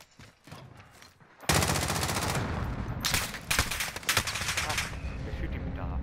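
After a quiet, murmuring start, loud rapid automatic gunfire erupts in Call of Duty: Modern Warfare, continuing in close, dense bursts with brief swells, with voices faintly underneath.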